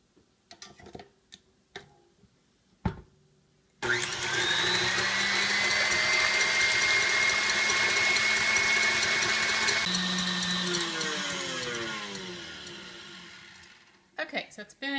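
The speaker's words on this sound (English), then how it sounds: "Mix them on high speed until you get stiff peaks." Electric mixer beating a batter on high speed toward stiff peaks: a loud, steady motor whine for about ten seconds, with brief sounds and voices before and after.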